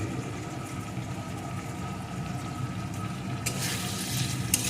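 Potato and pointed gourd pieces with salt and turmeric fry in a pan with a steady low sizzle. A brief, brighter stirring scrape comes near the end.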